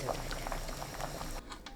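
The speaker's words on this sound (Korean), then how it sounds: "끓는 물에 굵은 소금 반큰술, 두부 넣고 센 불로 2분 데칩니다." Water boils vigorously in a pot over high heat with coarse salt and tofu, a dense, close bubbling and churning that continues throughout.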